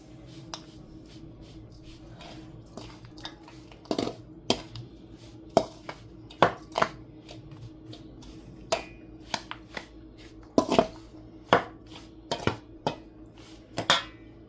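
Churma ladoo ingredients being mixed by hand in a Gujarati kitchen, heard as scattered irregular taps and scrapes against a bowl over quiet background hum, with no talking.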